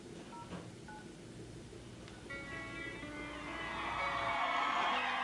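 Telephone keypad tones being dialed in a played video, a few short beeps early on, followed by a rising wash of music or noise swelling toward the end.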